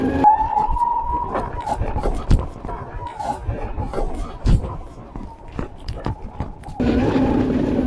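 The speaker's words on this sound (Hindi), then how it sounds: "ये जो आपने अभी स्लाइड करने का आवाज़ सुना टायर से" The tyre of an Ather Apex electric scooter skids under regenerative braking. A short squeal sounds at the start, followed by uneven road and ride noise.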